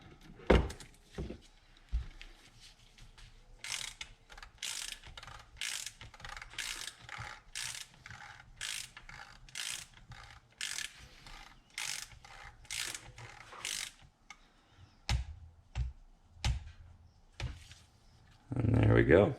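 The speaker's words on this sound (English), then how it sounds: "Torque wrench is already set to 10 Newton meters." A torque wrench set to 10 newton metres ratchets on a Fox top cap of a DVO Diamond Boost fork, giving a rhythmic series of close, sharp clicking bursts with a few clunks at the start and end.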